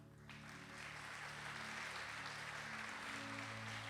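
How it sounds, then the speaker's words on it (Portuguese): A church congregation applauds in a steady, even wash of clapping that swells in the first half-second and then holds, fairly faint, while a low sustained musical tone continues beneath it. "você oferecer ao Senhor um aplauso de gratidão a Ele"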